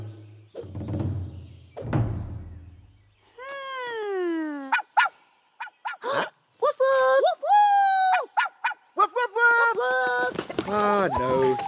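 A cartoon puppy's yelps and barks come in a lively series of short calls and whiny cries, with a few thumps at the start, heard alone and up close.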